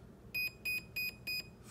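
Four short electronic beeps from a Proboat Zelos 36 boat's ESC, signalling a 4S battery, in a steady, evenly spaced rhythm, clear and fairly loud against faint background hiss.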